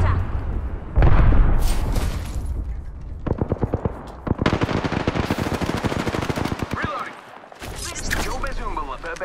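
Gunfire in Apex Legends, loud rapid automatic bursts with heavy booms, broken by short pauses, and a voice talks over it.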